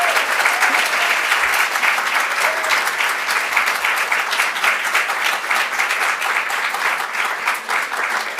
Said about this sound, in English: Please give them all a really huge round of applause.